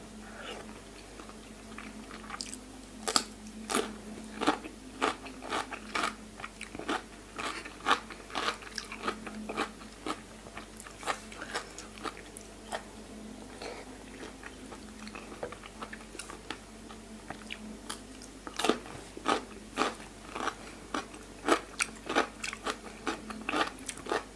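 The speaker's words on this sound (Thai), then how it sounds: "กินแล้วก็ รีบกินแตงกวาตามนะ" Close, crisp bites and chewing of raw salmon and crunchy cucumber, with irregular bursts of crunching and moist mastication repeating throughout, alone with no talk.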